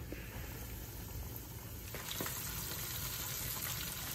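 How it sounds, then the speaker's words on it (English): A whole channel catfish frying in hot grease gives a steady, close, crackling sizzle that runs without a break and grows slightly louder midway. "While the fish is frying"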